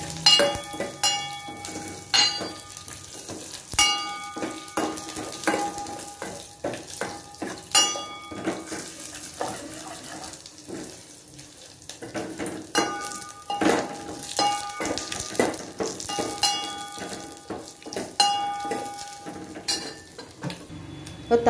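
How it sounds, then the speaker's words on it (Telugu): Mustard seeds, curry leaves and dried red chillies crackle and sizzle in hot oil for a tamarind rasam tempering, with repeated sharp pops and spits at a steady, close level and no talk. "ఇవి కొంచెం వేగిన తర్వాత ఎండుమిరపకాయలు వేయాలండి."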